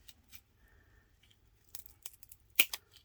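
Scissors snip through material for handmade mark-making brushes, a few quiet close cuts and crisp rustles, with one sharper snip standing out near the end in an otherwise quiet room.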